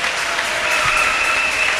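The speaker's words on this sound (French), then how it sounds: "On acclame le Seigneur." A church congregation breaks into steady applause, a dense wash of many hands clapping together at close range with no voices over it.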